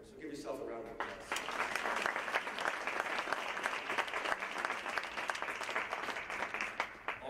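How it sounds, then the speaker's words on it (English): An audience at an Iona athletics introductory press conference breaks into sustained applause, dense clapping rising after a brief opening voice and holding steady to the end. "So give yourself a round of applause."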